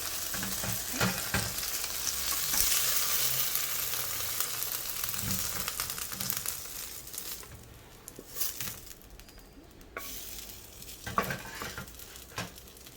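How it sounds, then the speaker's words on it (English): Okra (lady's finger) shallow frying in oil, a steady loud sizzle with crackling and occasional stirring clatter, fading somewhat toward the end with a few sharper pops. "So lady's finger is all being shallow fry."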